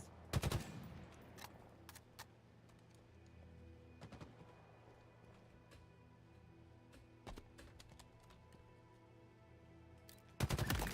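Gunfire in the Halo video game: bursts of rapid automatic shots at the start and end, with scattered single shots and faint clatter in between, fairly quiet overall.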